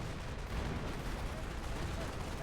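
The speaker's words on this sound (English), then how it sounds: "gunfire, face to face," Constant face-to-face gunfire and explosions in a Company of Heroes battle, with German Grenadiers and snipers in the fight, a dense, continuous rattle of shots with no gaps.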